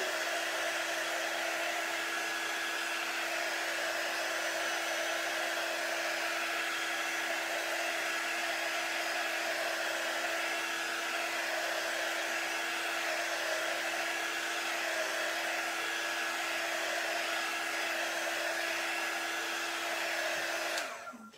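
A hair dryer blows steadily and loudly on a jar cutout for about twenty seconds, a constant close whooshing drone that cuts off abruptly at the end.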